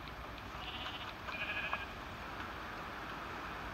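Sheep in the Minecraft video game bleat faintly once or twice around the middle, over a steady low background hiss with no talking.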